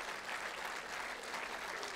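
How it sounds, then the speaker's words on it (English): Church congregation applauding during a revival service, a dense, steady wash of clapping that fills the whole stretch at even loudness with no speech over it. "Can I ask of you guys to please put a big round of applause?"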